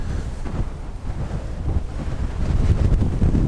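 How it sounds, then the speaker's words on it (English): Wind buffeting a chest-mounted camera microphone on a bicycle ride: steady, rumbling low roar with gusty swells, close and loud, no speech. "There's all this wind out here."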